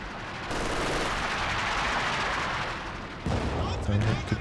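Sustained machine gun and battle fire in Company of Heroes 2, a dense roar of automatic shots for a few seconds, then a fresh burst with a voice talking over it.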